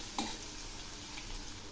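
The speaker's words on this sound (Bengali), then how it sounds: "এই পেঁয়াজ আর রসুনগুলো একটু ভেজে নেব।" Onions and a whole head of garlic fry in a pan with a steady, soft sizzle, with one brief stirring scrape near the start and no talking.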